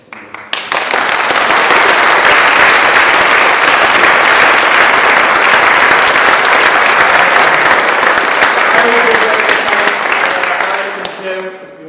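A theatre audience at a Westminster production of Macbeth breaks into loud, sustained applause. Thick crowd clapping rises quickly, holds for about ten seconds, then fades, with voices emerging near the end.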